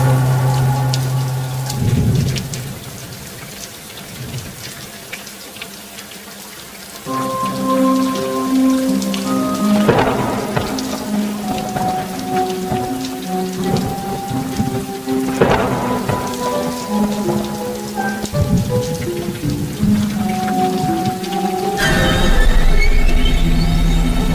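Steady rain falls heavily on surfaces, with rolling thunder rumbling several times, used as a sound effect in a horror story; a dense, close downpour with no voices.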